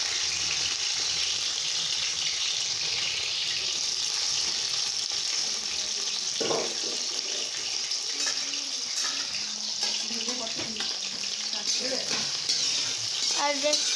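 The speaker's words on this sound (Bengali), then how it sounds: "এখানে ভেজে নিচ্ছে ক্যারটগুলো, আর এখানে শিমলা মির্চ" Carrots and bell peppers frying in a wok give off a steady, close sizzle that runs throughout, with occasional stirring scrapes and clinks and no one talking.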